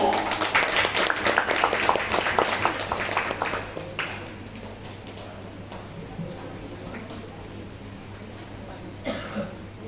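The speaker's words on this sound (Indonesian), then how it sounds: "Mari kita beri tepuk tangan yang meriah." A school audience claps for a student group's presentation. Brisk applause fills the first few seconds, then fades to scattered claps, a cough and low room noise.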